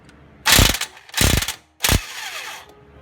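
Three loud bursts of rapid ratchet clicking as a socket wrench unscrews a bolt on a Nissan Altima wheel bearing, each run about half a second long with brief gaps between, close and clear with no voices.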